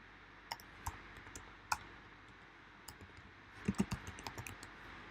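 Typing on a computer keyboard while writing HTML code, with scattered light clicks at first and then a quicker burst of keystrokes near the end, close and fairly quiet.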